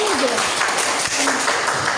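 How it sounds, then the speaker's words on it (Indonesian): Students in a classroom break into a short burst of steady applause that fills the room, with voices mixed in underneath the clapping. "Tepuk tangan."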